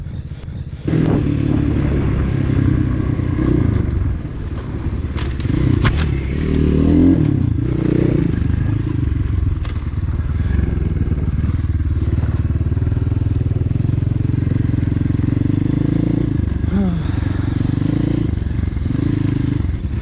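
A small motorcycle engine runs steadily and loudly throughout, with clattering and scraping knocks around it, as the bike is started and ridden off nearby; voices talk over the engine.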